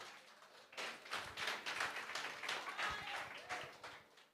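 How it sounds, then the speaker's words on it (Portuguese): A church congregation claps during a worship teaching session, a dense, continuous patter of many hands at moderate distance that swells and ebbs for several seconds with murmuring voices mixed underneath. "Palmas para Jesus, irmãos."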